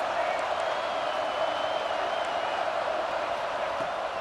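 Stadium crowd in the College Football 26 video game roars steadily in a dense, sustained wash of cheering, loud and unbroken throughout.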